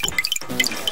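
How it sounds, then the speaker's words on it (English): Water leak dripping in a Bob the Builder PC game, a quick run of bright plinking drops in close succession, clear and alone with no talk. "I can still hear water running, Bob."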